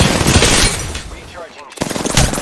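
Gunfire in the shooter game Apex Legends while playing as Gibraltar: loud, dense bursts of shots that drop away briefly mid-clip, then resume just as hard.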